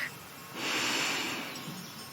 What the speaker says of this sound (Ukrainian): Раз вдих